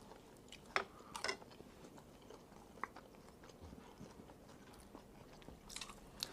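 Quiet, close chewing of spicy canned fish salad with lemongrass over rice, with soft wet mastication and a few crisp bites standing out against low background noise.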